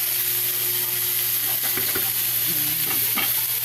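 Pork goes into a hot pot and cooks, a constant hissing sizzle with a low steady hum underneath and a few stirring clinks and scrapes near the end, close by and without talking.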